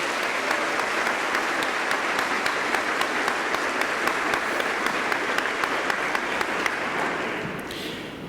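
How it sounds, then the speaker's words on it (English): Sustained crowd applause at a high school commencement ceremony, dense steady clapping that fills the hall, fading slightly at the very end. "how about one more round of applause for three amazing women?"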